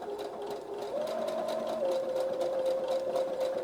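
Sewing machine running a blanket stitch along the edge of a homespun fabric rag quilt, a steady continuous whirring hum with a pitch shift partway through, close and alone throughout.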